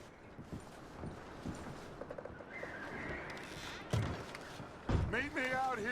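Horses in the Red Dead Redemption 2 video game, with hooves clopping and a few dull thumps over a busy ambient bed, plus a louder snort or whinny-like burst near the end.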